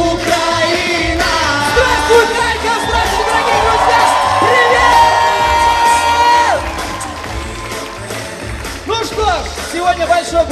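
A large audience at a 2015 KVN regional league festival cheers, whoops and claps loudly, with a crowd roar, an amplified voice and tonal shouts rising over the noise.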